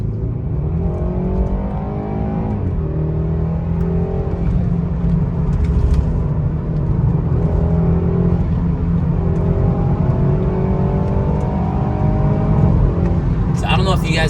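A BMW with a B46/B48 four-cylinder engine pulls hard at full throttle, a steady loud engine drone rising in pitch through the gears, heard from inside the cabin with someone talking over it.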